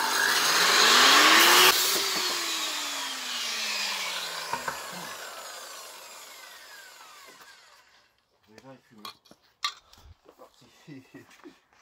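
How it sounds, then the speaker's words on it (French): A loud, harsh angle grinder whine with a pitch that sweeps up and then slowly down as it cuts metal on a Honda 150 cc OHV lawnmower, followed by quieter clatter and handling noises. "je vais disquer là directement"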